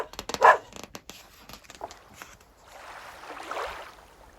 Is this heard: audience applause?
no